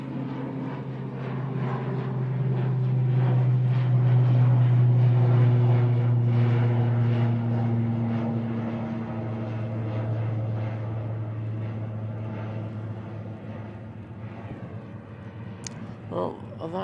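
Propeller drone of an ATR turboprop airliner at Manchester Airport, a loud sustained engine tone that swells to a peak and then slowly fades, with someone talking over it.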